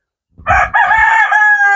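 A single loud rooster crow sounds close by, a rising call held for over a second, heard alone.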